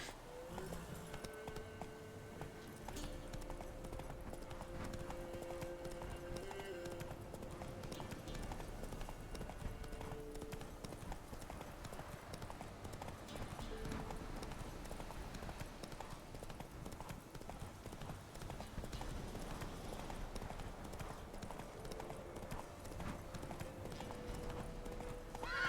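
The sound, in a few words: horse Roach's hooves clip-clopping in video game Witcher 3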